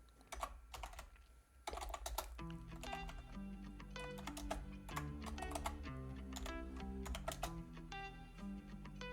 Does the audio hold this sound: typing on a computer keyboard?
yes